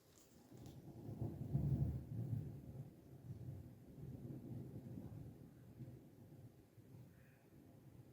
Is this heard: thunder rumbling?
yes